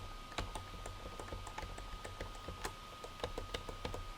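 Computer keyboard keys are pressed in sporadic quiet clicks, about a dozen separate taps at uneven intervals against a soft hum, with no talking.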